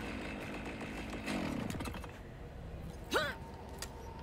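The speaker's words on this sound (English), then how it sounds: "it's like a chainsaw." A chainsaw-like sword weapon in the video game Cyberpunk 2077 Phantom Liberty revs with a buzzing mechanical whine that rises and falls over several seconds, then a swooping slash sweeps through, all fairly quiet.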